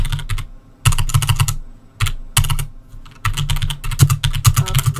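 Steady bursts of computer keyboard typing, close and fairly loud, in quick clattering runs separated by short pauses, with no talking over it.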